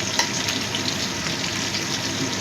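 Chicken pieces frying in hot oil give a steady, dense sizzle and crackle, continuous and close with no speech.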